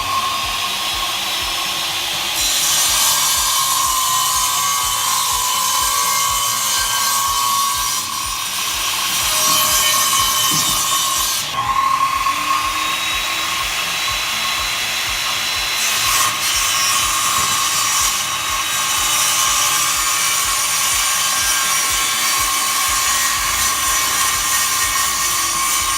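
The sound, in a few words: big saw cutting wood at Home Depot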